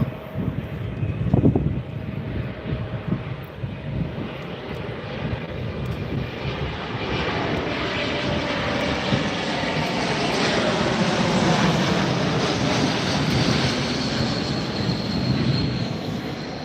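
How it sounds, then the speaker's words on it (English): Airplanes arriving at Tampa airport produce a broad, rushing jet roar that builds and lingers, steady and loud throughout with no voices. "We're gonna have a lot of great planes coming in."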